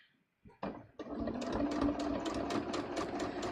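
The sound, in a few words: sewing machine sewing a dress bodice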